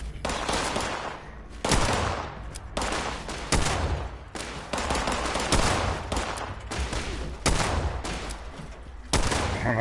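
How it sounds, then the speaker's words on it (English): Gunfire in Fallout 76 on PS4: repeated loud bursts of shots, sharp cracks arriving in irregular clusters every second or so over a steady noisy background, close and dominant throughout. "Somebody shooting at you?"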